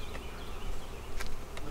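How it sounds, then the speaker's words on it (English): A steady honeybee buzz hums close by at a beehive, with a few brief louder swells as bees pass near, over a low background rumble. "There's a lot of bees under here."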